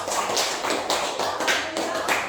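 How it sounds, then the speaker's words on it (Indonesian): A class of students applauds during a school lesson, with steady, scattered hand clapping that carries on evenly throughout, close by and fairly loud. "Tepuk tangan untuk kalian semua."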